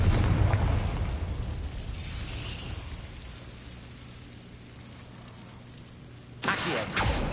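The Confringo spell goes off in Hogwarts Legacy as a booming blast that rumbles and fades over several seconds, followed by a sudden crackling burst near the end.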